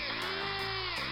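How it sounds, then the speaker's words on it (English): Chain drilling holes through the roof panel of a Renault 14 GTL during restoration: a steady, loud, close whining drill note held throughout, alone with no talk. "And here I'm chain drilling"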